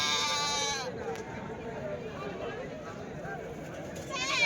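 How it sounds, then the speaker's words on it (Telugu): Billy goats bleating at a weekly Friday sheep and goat market in Chelur, Karnataka, with overlapping cries up close amid crowd chatter and people talking. "సో ఇవన్నీ మేకపోతులు"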